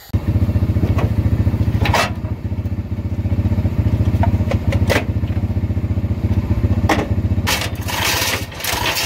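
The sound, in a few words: four-wheeler ATV engine pushing a truck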